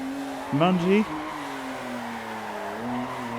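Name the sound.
racing car driving around a track in a video game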